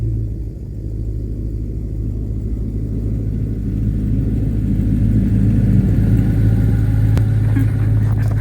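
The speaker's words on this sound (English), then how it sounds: "Of course, when I'm about to do it, a sheriff drives by." A sheriff's car passing nearby, heard as a steady, loud low engine rumble and road noise that swells slightly toward the end, with no voices.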